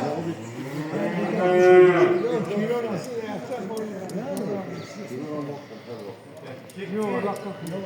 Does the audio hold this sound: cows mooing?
yes